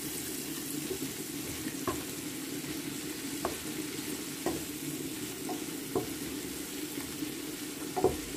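Food frying in a pan with chilli, a steady soft sizzle broken by periodic scrapes and clinks of a spatula tossing the mix, close and fairly quiet with no voices.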